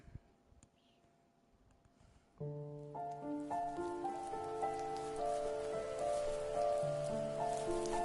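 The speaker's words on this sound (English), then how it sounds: "The rain cascaded." Steady rain pours down, starting faint and swelling after about two seconds, with sustained musical tones layered over the constant patter.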